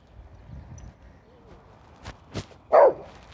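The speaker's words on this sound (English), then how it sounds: "he's barking at somebody." A dog barks once, sharp and fairly close, after a couple of softer knocks, with quiet background before it.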